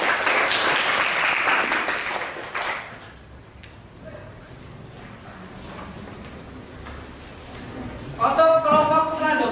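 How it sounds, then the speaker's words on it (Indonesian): A classroom claps for a group's presentation with loud applause for the first few seconds, then fades into quiet room noise and talk, and a second burst of clapping rises near the end. "Sebelumnya kita tepuk tangan untuk penampilan dari kelompok kita."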